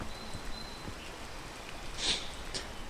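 Rain in the game Peak falls as a soft, steady patter with faint scattered drips and a brief brighter splash near the end, fairly quiet throughout and with no voices.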